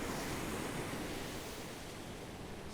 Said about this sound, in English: I don't know if you can see them waves breaking on that skier over there